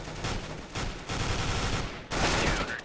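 Submachine gun fire in a CS:GO match, with several rapid bursts of gunshots that come in repeated bursts, broken by brief pauses, then a louder final volley. The fire is fairly close and dense.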